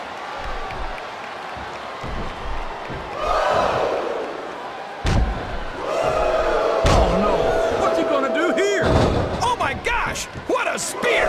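Spear tackle slam in WWE SmackDown vs Raw 2007 on PS2, Edge against Eddie Guerrero: sharp impact thuds land amid a roaring arena crowd, with commentators talking over the action.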